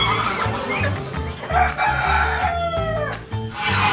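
A rooster crows loudly and repeatedly at a busy bazaar in Iran, its long cock-a-doodle-doo cries rising over a steady murmur of crowd noise and low rumbling.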